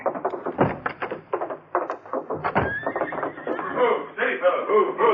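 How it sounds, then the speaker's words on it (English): In a radio drama, a big white stallion comes down a slope toward the gates and lets out a loud, drawn-out whinny. Hooves thud and clatter around it, and voices can be heard in the scene. "A big white stallion coming down the slope toward the gates"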